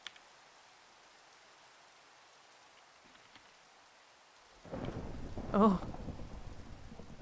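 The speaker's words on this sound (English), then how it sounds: "Of course it was a thunderstorm." A Minecraft thunderstorm starts after near silence: rain suddenly surges in as a steady, fairly loud hiss, with a rumble of thunder swelling briefly just after; a person makes a short exclamation.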